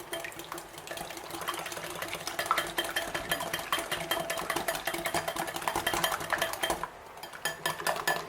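Coated peanut mixture being stirred in a bowl, with a rapid, continuous scraping and clinking of utensil against the bowl that runs steadily and close, pausing briefly near the end, with no speech.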